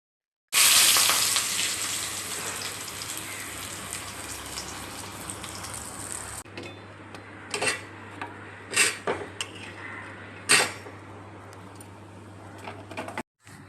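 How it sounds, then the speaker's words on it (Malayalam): An egg fries in a pan in a home kitchen, with a loud sizzle that starts abruptly, then drops to a softer steady crackle broken by several sharp pan and utensil knocks. "അങ്ങനെ കിച്ചണിൽ വന്ന് മുട്ട പൊരിക്കാനായിട്ട് വരികയാണ്"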